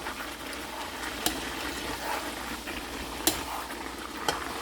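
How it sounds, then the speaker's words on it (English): Red and yellow capsicum are stirred into a simmering beef afritada stew, giving a steady close sizzle and bubbling with a few sharp spoon taps against the pot. "it is about time that we're going to add both of this capsicum, the red and the yellow. Give a wonderful stir."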